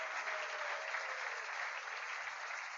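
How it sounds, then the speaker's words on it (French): Church congregation applauding a pastor's wife as she stands, a steady, dense wash of clapping hands that holds evenly throughout, moderately loud, with no talk over it. "On va applaudir."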